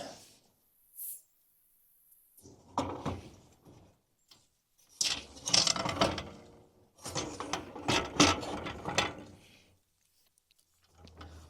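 A 1Up bike rack is slid and clicked into a travel trailer's tow hitch receiver, with scattered metallic clunks, scraping and ratcheting clicks separated by short pauses, close by.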